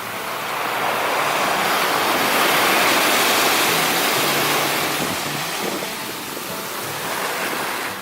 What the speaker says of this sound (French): Alors, il y a pas mal de vagues.